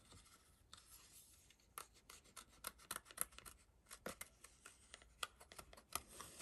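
Scissors cut around a gel press card, close and quiet, giving a rapid irregular series of short crisp snips and paper rustles as the card is turned.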